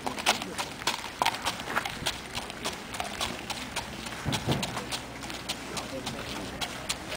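A stallion's hooves clop on a hard surface in a steady walking rhythm, fairly close, with faint background noise.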